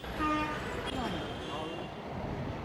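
Traffic din near the Anand Vihar railway terminal in Delhi, with a short horn toot early on over a continuous rumble of engines and road noise.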